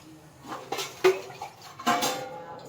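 Metal cookware clinks and clatters nearby as a pressure cooker and lid are set up for khichdi, with a few sharp knocks spread across a few seconds.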